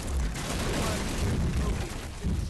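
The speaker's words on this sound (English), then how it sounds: "We've got small explosions in the shed!" Small explosions in a burning shed in Firefighting Simulator, a dense, rough burst of crackling booms and rumbling over a couple of seconds, loud and continuous with no clear gaps.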